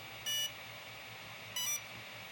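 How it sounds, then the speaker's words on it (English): Two short bursts of high electronic beeping from the ESC of an Arrma Kraton RC car during programming, each about a quarter second long, with a quiet pause between them. "That's the last beep."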